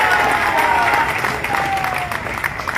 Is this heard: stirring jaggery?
no